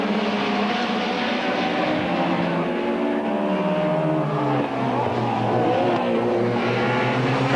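Touring cars from the 1990 BTCC season race past, engines roaring loud and continuous, with pitch rising and falling through gear changes as the field sweeps toward the hairpin.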